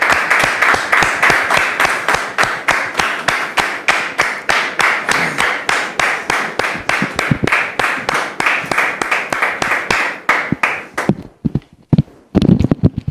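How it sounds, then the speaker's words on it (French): Audience applause welcoming a woman named Dame Florette, a rhythmic, unison clapping in a steady beat at about three claps per second, loud and close, breaking up into scattered claps and stopping near the end. "Public, merci de recevoir Dame Florette sous vos applaudissements"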